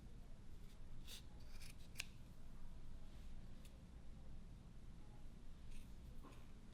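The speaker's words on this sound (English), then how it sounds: "slide your scissors right between" Scissors snip through the yarn loops of a handmade pom pom with several short, crisp cuts scattered across a quiet background, close and fairly soft.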